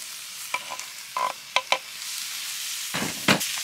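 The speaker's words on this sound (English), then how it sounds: "I'm going to chuck the Italian sausage in." Italian sausage sizzles in a hot pan over a campfire, a steady quiet frying hiss broken by occasional scrapes and stirring clatters, with a louder burst of crackle near the end.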